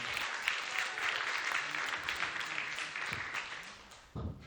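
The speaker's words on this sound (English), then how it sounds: "Clap it up for Kyle Scanlan, everybody" An audience at Laugh Factory Chicago comedy club applauds a comedian, a sustained wash of clapping and cheers that fades toward the end before a brief louder burst.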